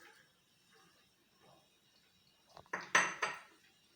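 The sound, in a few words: mixing potato, spinach and spices in a bowl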